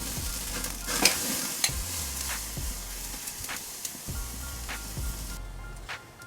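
A USDA tri tip steak searing on a hot Kamado Joe Jr grill, a dense close sizzle with scattered pops and crackles that drops away sharply near the end.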